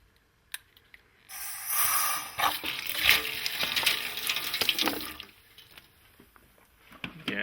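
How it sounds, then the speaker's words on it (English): Water rushes and splashes from a repaired Parkside automatic garden hose with a fixed snapped inlet, a steady hiss starting abruptly and running for several seconds before easing to a quieter trickle. "Yes, we've got water."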